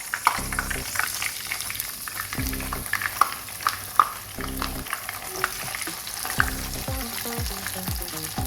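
Ayala (mackerel) fish frying in hot oil in a pan over a medium flame, a continuous crackling sizzle punctuated by repeated low scraping and bubbling bursts as pieces are placed and moved.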